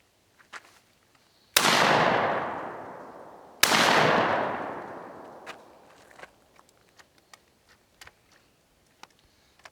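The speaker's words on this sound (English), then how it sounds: "This time, I should be able to fire the top barrel first." A Remington SPR310 12-gauge over-under shotgun, built in Russia by Baikal, fires two loud, sharp shots about two seconds apart. Each blast rings off in a long decaying echo outdoors, and faint clicks and handling noises follow.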